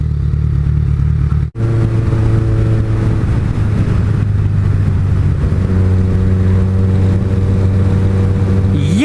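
A small Yamaha motorcycle engine drones loudly nearby, holding a steady tone, then dropping and rising again as it passes, with a brief revving lift at the very end.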